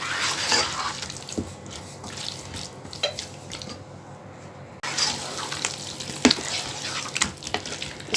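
Water poured into a pan of tomato and potato for aloo gobi, a soft trickling splash with a few clinks and scrapes, a brief pause, then more pouring and clatter close by.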